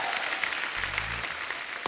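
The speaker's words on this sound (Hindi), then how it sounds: "एक बार जोरदार तालियां जॉन और दिव्या के लिए।" A television comedy-show studio audience breaks into brief, steady applause, a dense wash of clapping with a faint low musical tone underneath.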